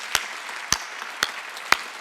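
Congregation clapping hands in unison during a church worship service: four sharp, loud claps evenly spaced about half a second apart, with no talk over them.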